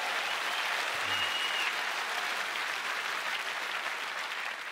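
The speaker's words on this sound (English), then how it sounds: "Well, you deserve some applause for that." Applause from the audience at a live bluegrass music show, a steady, full wash of clapping from many hands that holds at an even level throughout.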